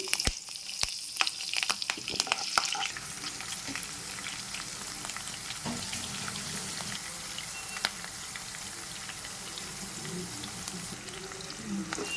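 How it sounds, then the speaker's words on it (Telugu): Green chillies frying in hot oil for pulihora, a close crackling sizzle with sharp spits and a few stirring scrapes early on, then settling into a steady, quieter hiss. "అవన్నీ తీసిన దాంట్లోకి పచ్చిమిర్చి కూడా వేసుకోవాలి"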